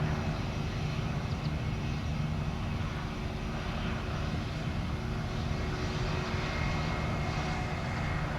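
An airliner departing Orlando International Airport fills the air with a continuous, broad engine roar that stays steady and fairly loud throughout, with no talk over it.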